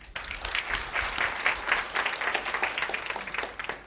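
An audience at a church sermon breaks into sustained applause, with dense overlapping claps that hold steady for about four seconds.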